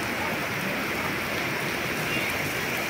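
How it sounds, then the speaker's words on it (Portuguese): Afternoon rain during a storm in Muriaé, Minas Gerais, a steady dense hiss of rainfall close by, continuous and even, with no voices. "Chuva à tarde aqui em Muriaé."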